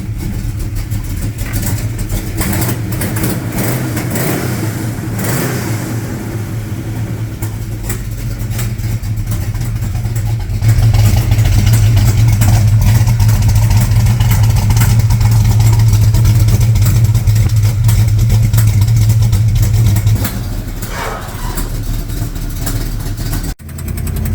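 A 1968 Mercury Cougar engine idles steadily after a starter replacement, then holds a louder, deeper run for several seconds before settling back down, close and alone.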